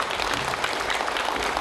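A crowd at a farming forum claps in a dense, steady burst of applause, brief and moderately loud.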